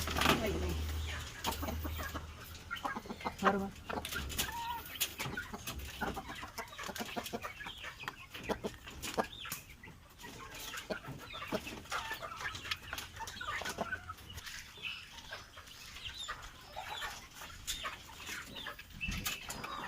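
Small-farm chickens clucking and flapping their wings, bursts of wingbeats and scattered clucks over a noisy outdoor backdrop, with some faint voice activity in the mix.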